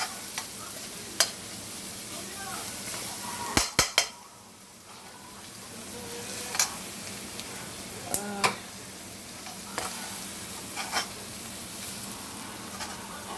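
Onions and garlic frying in butter on low heat: a soft, steady sizzle with scattered clinks and scrapes of a utensil stirring against the pan, quiet and close.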